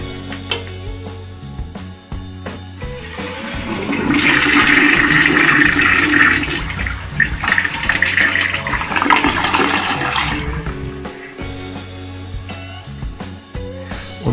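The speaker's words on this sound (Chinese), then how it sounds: "我们用水来给它冲一下。" A toilet bowl is rinsed and flushed after being cleaned of yellow stains. A loud rushing surge of water swells for several seconds and then drains away, with the flow audible up close and no speech over it.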